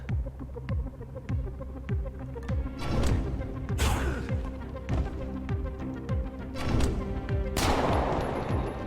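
Repeated gunfire from the stealth strategy game Invisible Inc, a rapid series of sharp shots over a steady looping game soundtrack, with two louder bursts standing out.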